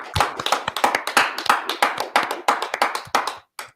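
A single person claps hands in a quick, uneven rhythm during a scripture class, sharp and close, about two dozen claps with a short pause near the end.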